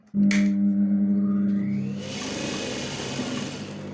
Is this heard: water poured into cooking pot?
no